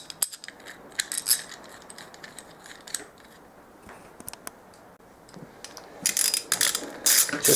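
Ratchet clicking in short runs as a wrench tightens the clutch spring bolts on a ZS155 pit-bike engine, close up and fairly quiet, with brief pauses and a louder burst near the end.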